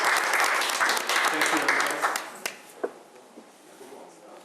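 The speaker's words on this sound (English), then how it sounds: "keep the applause going for the Beer family McDonald's" A village board meeting audience applauds, a full burst of clapping for a couple of seconds that thins into a few scattered claps and fades, with a voice speaking over it.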